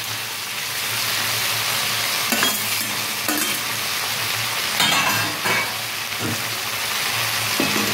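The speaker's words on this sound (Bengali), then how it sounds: "কম আঁচ দিয়ে বন্ধুরা এটা আমি এখন একটু কষিয়ে নেবো এইভাবে" Shrimp stir-fried in a pan over low heat with fried tomato and potato for a green tomato curry. A steady hiss of frying oil runs throughout, broken by intermittent scraping stirs.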